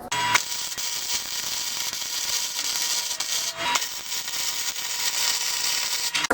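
Flux core wire welding on a steel fire pit, set for 1/8 inch, gives a steady crackling, sputtering hiss that runs almost without a break, with a short pause and restart partway through and no talking.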